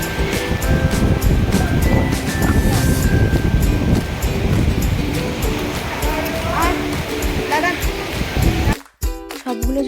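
Large waterfall on the hillside trail to Mahakal in the Jayanti hills, a loud, steady broadband rush of falling water filling the scene, with faint voices and movement underneath, cutting off abruptly near the end.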